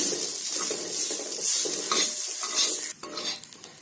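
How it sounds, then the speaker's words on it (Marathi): A pan scrapes and rustles as coconut is stirred and tossed, dry-roasted without oil over heat, with a soft continuous sizzle throughout. "आता या तव्यावर आता खोबरं भाजून घ्यायचं आहे, हे असं ड्रायच भाजायचं आहे"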